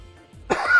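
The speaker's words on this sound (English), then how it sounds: "the coughing seems to get worse" One short, close cough bursts out after a moment of near silence.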